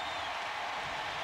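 Stadium crowd applause at a 1998 St. Louis Cardinals versus Chicago Cubs baseball game, a brief dense wash of distant clapping and cheering from a large crowd.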